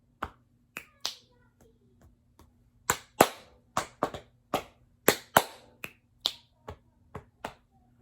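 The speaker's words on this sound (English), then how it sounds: "I feel the clap, pat, pat, clap." Crisp, close body-percussion hits, such as finger snaps, pats and claps, ring out one by one in a loose rhythm against a quiet background, with some louder strikes in the middle.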